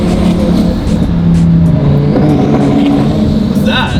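A rebuilt twin-turbo Lamborghini revs hard and loud up close, its engine note climbing and falling through shifts with a whooshing, whirring turbo sound and a sharp rising whine near the end.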